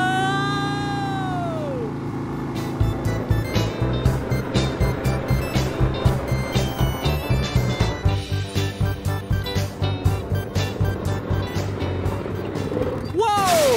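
A go-kart engine revs up and pulls away with a steady, rapidly pulsing motor drone, loud and close, while a voice talks and exclaims over it.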